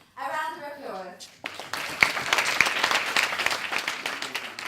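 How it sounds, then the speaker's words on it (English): Applause at a global health hack day event, a burst of clapping from a crowd that follows a brief spoken voice and carries on steadily at moderate volume. "A round of applause."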